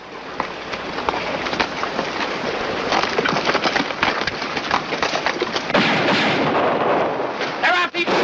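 Gunfire in a western film, a dense run of rapid shots and cracks over a noisy battle din, with voices mixed in toward the end.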